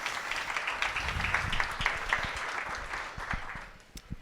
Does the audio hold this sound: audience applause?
yes